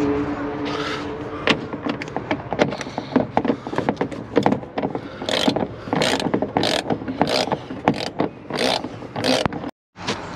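A ratchet with a 10 mm socket loosens the fan bolts on a 2008 Dodge Ram 1500 with a 4.7 V8, a close rapid clicking of the pawl in repeated strokes with metallic rattles between them.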